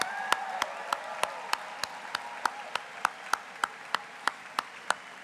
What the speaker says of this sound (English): let's give Associate Dean Heyer one more round of applause for amazing names.